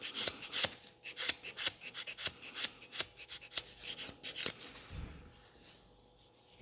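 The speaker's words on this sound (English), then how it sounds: "those buffing doesn't take long" Fingernails being buffed with a nail buffer during a fiber gel infill manicure, giving quick repeated rasping strokes in a steady rhythm, close and fairly quiet, with no voices.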